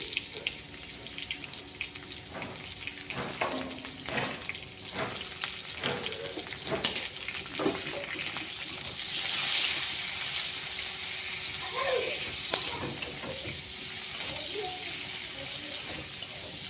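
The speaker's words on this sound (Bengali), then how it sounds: "ভাজতে দিচ্ছি খুবই কম তেলে আর সিম্পল একেবারে ভাজবে" Chopped onion fries in a little oil over cumin seeds in a pan, a faint continuous sizzle with scattered taps and stirring scrapes of a spoon, fairly quiet and close.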